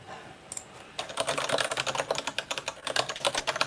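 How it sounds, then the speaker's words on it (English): Rapid typing on a computer keyboard during a web-development coding session, a steady run of close, crisp key clicks with a few heavier strokes, starting after a brief pause and continuing without talk. "Okay, I'm just going to type it."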